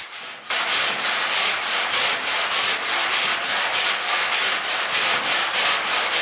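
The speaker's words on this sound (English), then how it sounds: "Just straightening everything out with 80 grit on my block." Steady back-and-forth scraping of 80-grit sandpaper on a hand sanding block against the steel body of a 1972 Ford F100 4x4 truck, starting after a brief pause and continuing in an even, close rhythm with no talk.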